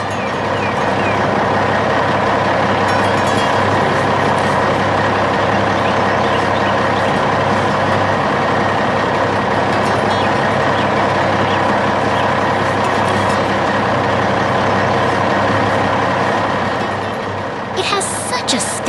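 A big green dump truck with a heavy load rumbles along a dusty desert road at a construction site, its engine a loud, steady drone that holds throughout with an animated narrator's voice over it, then eases off near the end.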